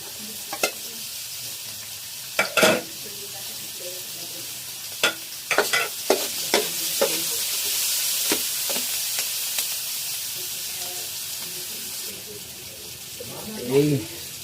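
Ginger and onion sauté in a pan with a continuous close sizzle, broken by repeated clatters and scrapes of a stirring spoon, plus a brief bit of running water near the end.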